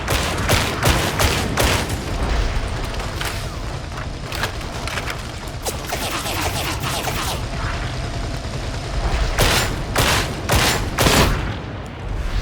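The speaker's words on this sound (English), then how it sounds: "Enemy ranged attacks cause suppression, making it harder to land accurate shots." Enemy ranged gunfire in the Darktide video game, dense rapid shots and mechanical clatter filling the scene continuously, loud and close with heavier bursts of firing near the end.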